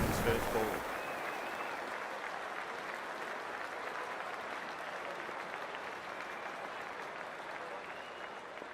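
A cricket stadium crowd at a Pakistan versus South Africa one-day international applauds at the start of play, a dense, sustained wash of clapping with a commentator's voice over it.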